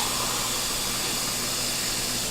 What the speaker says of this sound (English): I'll take a coffee mug and then put some water in that.